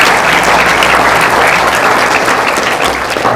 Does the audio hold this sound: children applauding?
yes